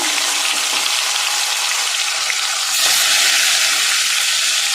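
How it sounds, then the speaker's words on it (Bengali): Paneer pieces fry in hot oil, a loud, dense and continuous sizzle close by that swells slightly partway through, with no voices. "আবার পনির ছেড়ে দেবো ভাজার জন্য।"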